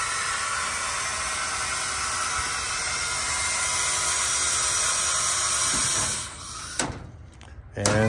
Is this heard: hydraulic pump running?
yes